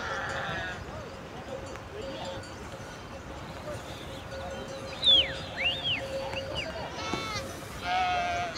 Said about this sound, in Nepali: पाटनमा भेडाहरू चढ्नुको मजा नै बेग्लै छ